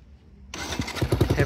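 A motorcycle in neutral starts up abruptly after a short near-silence, then settles into a close, rhythmic throbbing of engine pulses.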